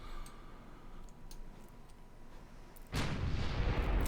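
A 13.5-inch main gun battery on an upgraded Mountbatten-class dreadnought fires in the naval battle game Ultimate Admiral Dreadnoughts: a loud, deep boom erupts late and rolls on, following a low rumbling backdrop with faint ticking.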